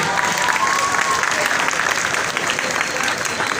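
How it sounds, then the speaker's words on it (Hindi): Loud, continuous audience applause fills a college program hall, dense and even throughout. "आपकी भरपूर तालियों में।"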